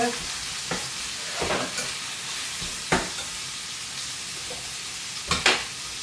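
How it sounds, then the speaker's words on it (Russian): Minced meat being stirred in a pan: a low continuous sizzle with a few sharp spoon scrapes and knocks against the pan at irregular intervals, close and fairly quiet. "Сейчас я буду мешать этим фарш"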